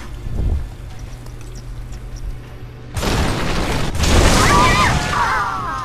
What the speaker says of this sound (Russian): И взрываем.